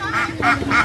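Three loud, nasal duck quacks in steady succession, close by, with a busy background murmur underneath at a rural market in Vinh Long, Vietnam.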